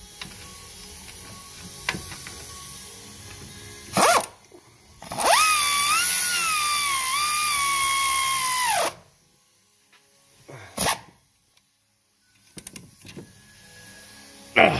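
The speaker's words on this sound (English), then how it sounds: "Now I'm gonna use the air ratchet to tighten that up there." An air ratchet with a 7/8 socket tightens a front hub bearing nut on a 2004 Dodge Ram 1500 4x4 Hemi, one loud whirring burst of about three seconds between softer clicks and clanks of handling.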